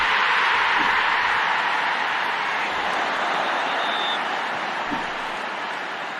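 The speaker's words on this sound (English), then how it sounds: "They're all cheering for their favorite. They're cheering loudly." A wrestling arena crowd at a Monday Night Raw show in Lincoln, Nebraska, inside a Roblox game, roaring in a steady, broad, hissing wall of cheering that fades slightly toward the end, with no clear individual voices.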